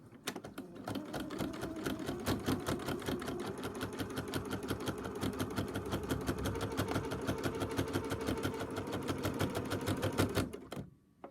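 A sewing machine runs steadily for about ten seconds, stitching through the pinned backing, batting and top layers of a table runner with a fast, even mechanical chatter.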